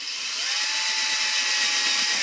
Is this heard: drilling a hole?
yes